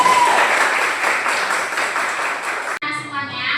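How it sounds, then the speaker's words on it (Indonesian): Classroom students clapping together in an Indonesian eighth-grade lesson, a brisk, continuous burst of many hands that stops abruptly near the end, followed by a brief tonal voice. "Tepuk tangan untuk kita semuanya."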